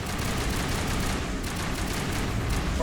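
Rapid weapon fire in the sci-fi shooter Mass Effect Legendary Edition, a dense continuous burst of shots with bright crackling transients over a heavy low rumble, loud and unbroken for the whole stretch.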